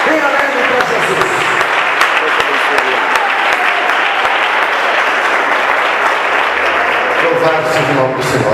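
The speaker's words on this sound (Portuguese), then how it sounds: "Vamos receber o servo de Deus com palmas." A church congregation claps enthusiastically to welcome a preacher, with loud, continuous applause, some sharp individual claps standing out and voices calling out beneath it.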